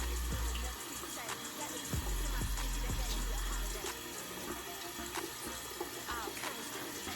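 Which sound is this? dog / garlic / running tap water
running tap water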